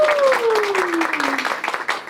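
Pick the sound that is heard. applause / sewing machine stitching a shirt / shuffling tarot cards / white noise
applause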